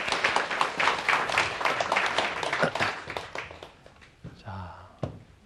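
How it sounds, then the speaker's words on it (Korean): A live studio audience at a Korean lecture show breaks into loud, dense applause that holds steady for several seconds, then thins out and fades as a voice begins speaking. "박수 부탁드리겠습니다"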